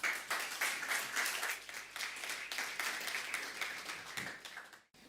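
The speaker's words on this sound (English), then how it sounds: "Please give them a huge round of applause." Applause from a conference audience for a youth leadership forum panel, dense steady clapping that fills the room for several seconds before cutting off abruptly.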